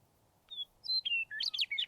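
Prairie grassland birds chirping, a few thin, high tweets and short whistled calls in quick succession, fairly faint and clear against quiet background.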